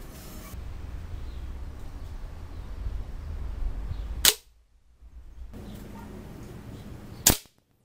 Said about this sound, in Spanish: ahora disparé, pegué donde apunté